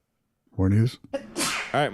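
A single sharp sneeze bursts out close by in a casual podcast setting, with people talking right around it.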